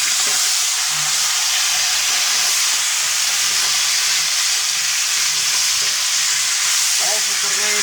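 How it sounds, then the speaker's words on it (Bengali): Chicken pieces added to fried onions in a pan for chicken curry, a loud constant close sizzle and hiss with faint stirring, no talk. "আমার পেঁয়াজ ভাজা হয়েছে, এখন এই যে মাংসটা দিয়ে দিব।"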